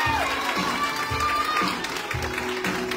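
An audience applauding a teacher at a children's show, a steady crowd clap with some cheering, under a voice on the PA.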